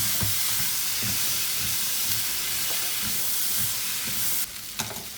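Jambalaya with garlic sizzling and bubbling in a pot, a dense close hiss with occasional stirring scrapes, easing slightly near the end, with no voices.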